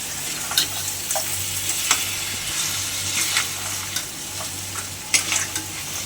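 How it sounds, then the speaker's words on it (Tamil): Crab pieces sizzle in a pan while a spoon stirs them, with repeated scraping knocks over a constant frying hiss, close and without talk. "ஓகே, இப்போ நம்ம நண்டு போட்டிருக்கோம். இதை நல்லா விதக்கிக்கலாம்."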